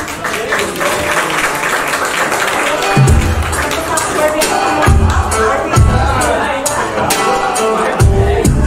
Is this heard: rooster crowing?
no